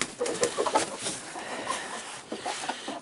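Hens cluck in short, close bursts inside a coop during the cleanup of damp bedding litter, with quieter rustling between calls.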